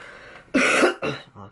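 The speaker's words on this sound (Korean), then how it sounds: "죄송합니다. 기침이." A person coughs twice in quick succession, close and fairly loud, with a short softer throat sound after.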